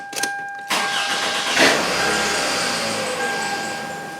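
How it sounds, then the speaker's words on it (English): A Toyota Solara with a starting fault cranks and catches, its engine rising to a steady idle that then fades, heard close and alone with a faint electrical whine. "the car started, the pump was engaged, and then the pump lost power"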